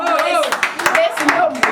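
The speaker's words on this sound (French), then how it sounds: "Applaudissez pour le beau." Audience applause at a recreational community gathering in Paris, scattered hand claps ringing out close by and overlapping, with voices talking and cheering over the clapping throughout.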